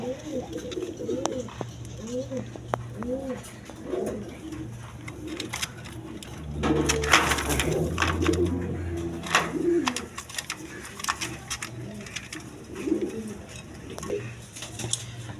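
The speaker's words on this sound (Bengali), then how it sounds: "এক পেয়ার রেড চেকার বেবি আছে রেড চেকারের বেবি রেশার কবুতর" A pair of young red checker racing pigeons coo repeatedly in rhythmic, rolling phrases close by, with other pigeons and someone talking over them.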